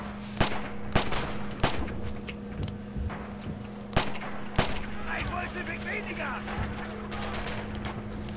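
Gunfire in the World War II shooter Red Orchestra 2: Rising Storm, sharp shots cracking at irregular intervals, some near and loud, others distant, over a steady low hum of battle ambience with a voice talking now and then.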